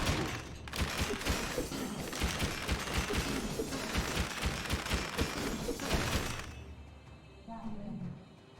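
Bombs explode in rapid bursts during a Dead Cells fight in the Bad Seed DLC. Dense cracking, shattering blasts fire over several seconds, then cut off and give way to quieter game sounds.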